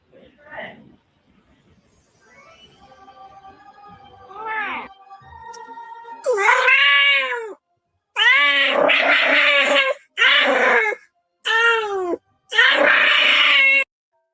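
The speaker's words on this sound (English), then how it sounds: "I think that must be the kitty version of crying because that's not a sound that particular cat makes normally on her videos." Cat gives a series of long, loud, distressed crying meows and wails, starting faint and rising into five drawn-out, howling cries separated by short silences.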